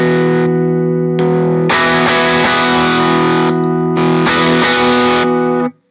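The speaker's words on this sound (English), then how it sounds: "whereas the Lightspeed at noon sounds like this" Electric guitar through a Lightspeed transparent overdrive pedal with gain at noon: loud, sustained distorted chords ring alone in a few held phrases separated by brief gaps, then cut off sharply at the end.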